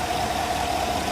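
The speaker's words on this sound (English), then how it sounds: "So it sounds pretty normal on the inside upon startup." A 2020 GMC Sierra AT4's 6.2L V8 idles just after startup, a steady, even engine drone with a constant mid-pitched hum and no voices.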